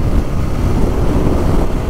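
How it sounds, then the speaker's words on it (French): A 2011 Can-Am Spyder RS-S three-wheeler with the Aprilia RSV1000 990 cc V-twin drones steadily while riding, a dense low rumble blended with wind buffeting on the microphone, loud and constant throughout. "Oh le moteur, ça c'est un moteur vivant, qu'est-ce que ça fait plaisir."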